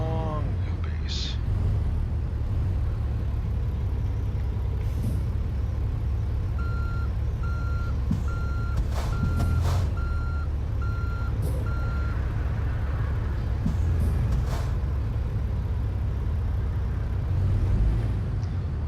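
A heavy truck in American Truck Simulator reverses with a steady series of reversing beeps over a low engine rumble, and an air-brake hiss sounds near the start; a voice talks at times underneath.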